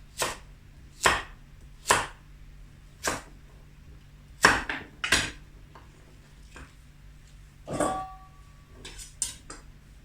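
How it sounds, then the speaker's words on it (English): Carrots being chopped into big chunks with a knife on a cutting board, a series of sharp, distinct knocks at an uneven pace, fairly close and clear, with no voices. "just cut them up into nice big chunks"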